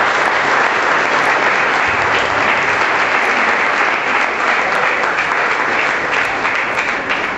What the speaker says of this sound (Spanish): Y hoy sí le damos un fuerte aplauso